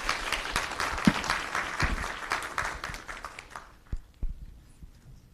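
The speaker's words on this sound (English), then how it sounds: "I would like to ask a huge applause for the panelists of this session" Conference audience at a sustainable finance session in Asia-Pacific applauds its panelists, a brisk round of many hands that thins out into a few last claps and then falls quiet.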